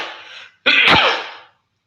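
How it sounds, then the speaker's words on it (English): One close, loud sneeze from a person: a sharp breathy intake, a short gap, then an explosive burst that fades out into silence. "A little sneeze there."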